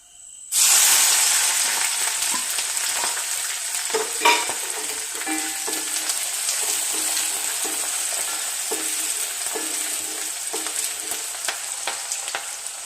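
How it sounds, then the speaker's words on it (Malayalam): Garlic, ginger, green chilli and curry leaves dropped into hot oil for a nutmeg pickle, bursting into a loud, close, continuous sizzle with occasional stirring clinks and scrapes, no voices. "ഇനി അതിലേക്ക് വെളുത്തുള്ളി, ഇഞ്ചി, പച്ചമുളക്, കറിവേപ്പില ഇട്ട് കൊടുക്കുക."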